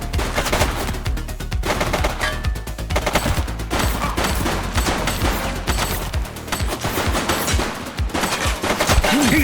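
Rapid gunfire during a shootout in The Precinct video game: loud, dense, continuous bursts of shots that overlap without pause.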